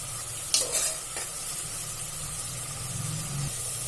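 Onion frying in oil inside a pressure cooker, with a steady close sizzle and a few brief stirring scrapes near the start, continuing alone without speech.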